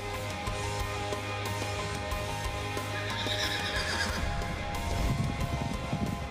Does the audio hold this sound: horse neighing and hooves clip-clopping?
yes